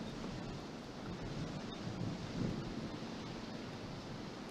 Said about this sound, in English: that wind is cranking out there